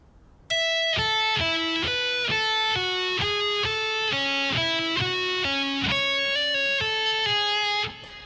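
Electric guitar plays a slow riff of distinct single notes in a steady even rhythm, clean and sustained with a bright attack on each pluck, alone with no talking.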